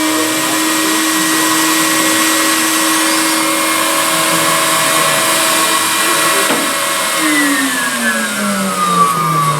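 A steady, loud mechanical drone of a vacuum providing suction for vacuum-forming scale model parts runs throughout, its hum shifting slightly in pitch toward the end.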